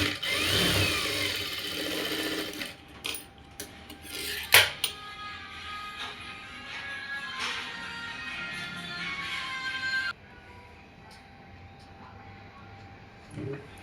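A sewing machine stitches a cloth umbrella frock, its motor whirring in bursts with clicks and clatter before falling quiet near the end.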